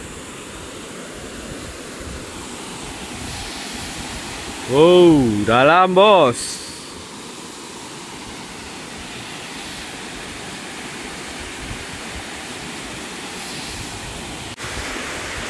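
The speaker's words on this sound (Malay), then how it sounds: "korang dapat dengar bunyi angin ya. Memang kuat angin kat sini." Strong wind blows steadily outdoors near the Bekelah waterfall, a constant broad roar filling the whole clip, with someone briefly speaking over it midway.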